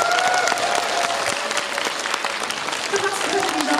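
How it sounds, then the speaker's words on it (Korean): An audience at a film stage event claps loudly and steadily for guests coming onstage, dense applause continuing throughout with faint voices and whoops mixed in. "큰 박수 부탁드립니다."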